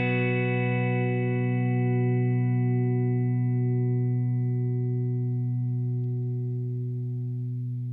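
A sustained electric guitar chord played through a compressor pedal rings evenly and steadily, its notes held long with a smooth, level decay and no talking.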